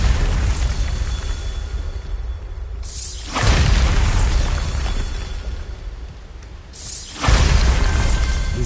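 Bombarda blasting spell in the wizarding video game Hogwarts Legacy, two loud booming explosions a few seconds apart, each a sudden burst followed by a rumbling, crumbling tail, with no talk.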